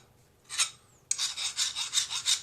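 A file rasping across a lathe chisel, first one short stroke and then a run of about six quick, even back-and-forth strokes, close and crisp with no talking.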